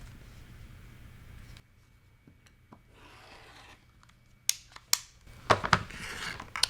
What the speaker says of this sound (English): I can even up the ribbon with the edge. And one more trim.